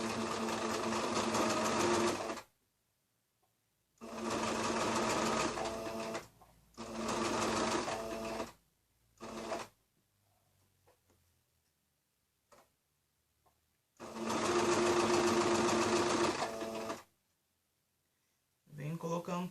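A sewing machine stitches patchwork squares for a small zippered pouch in several fast rattling bursts, each a few seconds long, separated by quiet pauses and brief mechanical clicks, close and loud.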